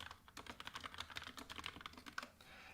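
Fast typing on a computer keyboard, a quick run of soft close clicks and key taps in irregular rhythm, heard alone.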